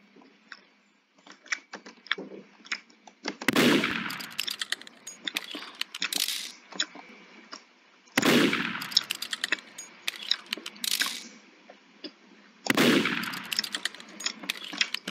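Gunfire in the Roblox game Murder Mystery 2 rings out in three sharp, loud bursts several seconds apart, mixed with clicking and clattering in between and no talk.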